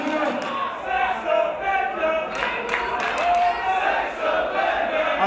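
A wrestling crowd at a WCPW Loaded event chants and cheers in loud, swelling waves, with shouting and some clapping mixed in, filling the hall continuously.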